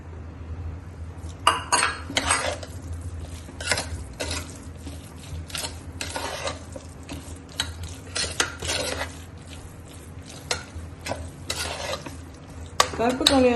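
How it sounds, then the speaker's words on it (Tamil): Grated coconut is stirred into sweet black kavuni rice in a pan. Steady scraping and stirring come through with sharp metallic clinks of a spoon against the pan, close and fairly loud. "அப்புறம் இந்த தேங்காய் துருவல் ஆட் பண்றேன்"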